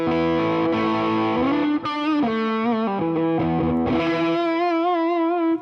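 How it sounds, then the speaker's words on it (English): Electric guitar through a boost pedal plays sustained chords and bends with a gritty, overdriven, Marshall-like tone, ringing loudly with no voices. "I don't like the distortion in it a lot, but it is there."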